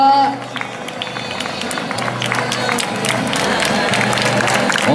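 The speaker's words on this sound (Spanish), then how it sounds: "Fuerte el aplauso para el compañero de Raúl Álvarez Bengoa." Spectators at a charity fun run in Gijón keep up steady applause and cheering as a Gijón Atletismo runner crosses the finish line, with crowd babble and an announcer's voice over the public address.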